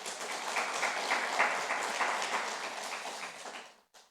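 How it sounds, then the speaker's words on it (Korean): A church congregation applauds during a Sunday morning Methodist worship service, a dense and steady round of clapping from many hands that holds for several seconds before fading out abruptly at the end. "우리 박수 한번 쳐드리겠습니다."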